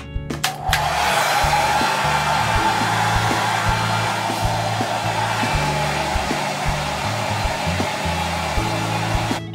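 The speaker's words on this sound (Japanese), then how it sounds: "髪を乾かします。" A hair dryer blows steadily while drying hair after a bath in a morning routine, a loud, continuous whooshing hum with a motor drone that kicks on abruptly at the start and holds evenly throughout.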